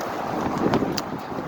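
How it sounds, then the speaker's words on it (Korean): Strong winter evening wind blowing outdoors near Seokchon Lake in Jamsil, Seoul, buffets the microphone in a continuous rumbling roar that swells briefly in the middle, with a few faint clicks. "바람까지 꽤 불고 있는데요"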